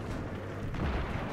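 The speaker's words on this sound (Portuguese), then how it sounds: "o jato caiu de bico aqui no chão" Deep, rumbling blast of a jet crashing nose-first into the ground and exploding in the Battlefield 3 video game on Wake Island, a dense low boom with a brief surge near the middle, heard alone without speech.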